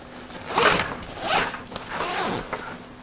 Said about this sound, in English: one of your main pouches, which zippers go all the way to the bottom